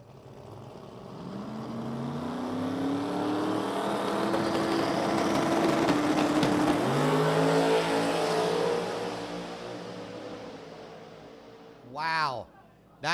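A Corvette and a Mustang drag race at a motorplex, both engines roaring loud and steady through the run and then fading as the cars go down the strip, with a short burst of revving near the end.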